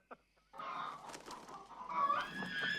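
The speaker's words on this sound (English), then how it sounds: "And now we got the chickens." Chickens cluck and squawk in a movie scene, a brief click first, then a dense, continuous stretch of fowl calls rising toward the end, with no speech.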